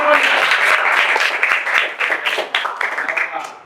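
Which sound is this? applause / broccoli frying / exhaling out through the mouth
applause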